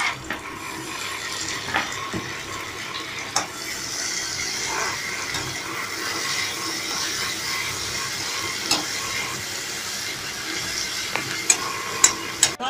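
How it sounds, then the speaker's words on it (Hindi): Tomato goes into a hot pan with asafoetida for rava upma and sizzles softly while a spoon stirs it, with repeated light scrapes and taps against the pan, close by and without talk. "अब इसमें थोड़ा सा टमाटर डाल दीजिए।"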